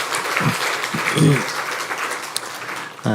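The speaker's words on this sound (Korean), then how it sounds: "그러면 우리 박수 한번, 환영의 박수 한번 하도록 하겠습니다." In a church service, the congregation gives welcoming applause, a steady wash of clapping from many hands with a few voices briefly audible over it.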